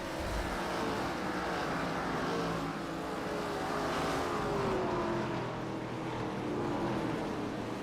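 Race cars circling the oval at Langley Speedway during a Rod Knock Cup race, a steady, loud engine roar filling the whole stretch with no talk over it.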